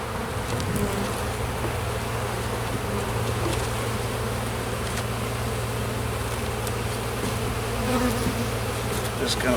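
Honeybees hum in a dense, continuous buzz around an open hive during a March inspection, close and steady for the whole stretch with no talk.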